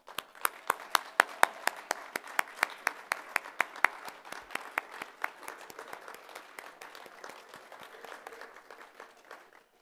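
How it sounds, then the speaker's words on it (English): A banquet audience claps for trip participants at a Chinese New Year appreciation dinner. Crisp, fairly sparse applause opens with a few distinct claps, then settles into an even patter that thins out toward the end. "we can give you a round of applause"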